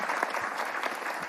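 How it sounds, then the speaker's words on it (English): Steady audience applause at a biotech startup demo day in San Antonio, Texas, dense and continuous clapping from a crowd throughout, fairly loud with no talking over it. "Seriously, round of applause, by the way, for this whole San Antonio group."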